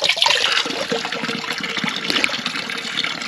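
Cold spring water in the Dhanaulti hills splashes and gushes steadily in a continuous close rushing flow, loud and unbroken, with no talk.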